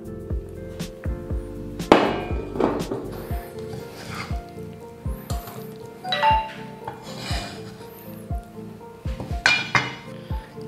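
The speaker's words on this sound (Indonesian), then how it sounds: "langsung aja ini daging yang sudah kita cincang kita pindahin ke dalam stainless bowl-nya" Chopped minced meat for siomay dim sum being scraped and dropped into a stainless steel bowl, with irregular close metallic clinks, knocks and scraping strokes.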